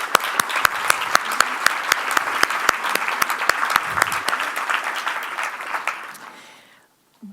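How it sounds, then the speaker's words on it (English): Lecture audience applauding steadily at a Canadian art collecting talk, dense rapid clapping that holds strong for about six seconds, then tapers off and fades to near silence. "I really want you to give them a big round of applause."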